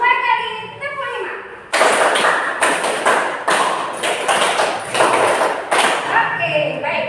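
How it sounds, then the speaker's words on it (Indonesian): A short rhythmic pattern of hand claps, sharp bursts in uneven groups as in a counted clapping exercise, loud and close, with a voice talking just before and after. "2 kali tepuk 5."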